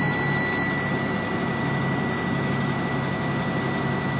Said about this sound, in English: I'll build it up at 1200 RPM.